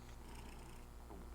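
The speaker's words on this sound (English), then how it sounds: "ASMR purring from Cooper?" A cat purrs loudly and very close, a continuous low rumbling vibration that holds steady and uninterrupted.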